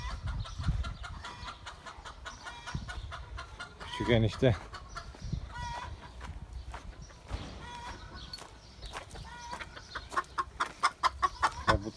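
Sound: chickens clucking

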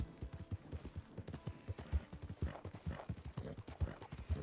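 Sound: horse hooves clip-clopping in a video game

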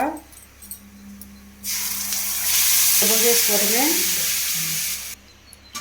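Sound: tempering spices sizzling in hot oil

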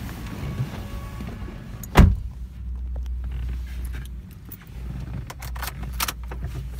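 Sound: 2015 Toyota Vios automatic car on a test drive

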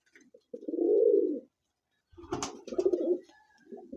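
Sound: pigeon cooing

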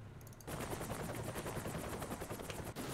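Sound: helicopter and machine gun fire in a Call to Arms game

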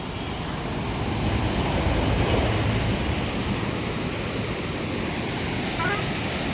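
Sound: rushing floodwater of Godavari and Krishna rivers

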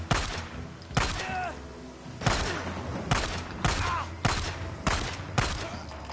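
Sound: gunfire shooting enemies in video game Days Gone

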